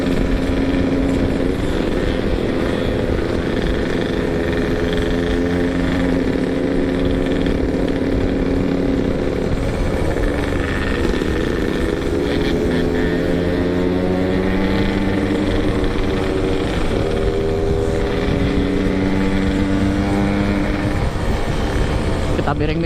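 Stock motorcycle ridden fast on a winding road, its engine droning and rising and falling in pitch through gear changes under strong wind rush, with talking over it.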